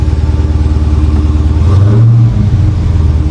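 A 2021 Dodge Challenger Hellcat Redeye in mint condition revs up close, its deep, loud idle swelling into a brief blip around the middle before settling back to a steady rumble.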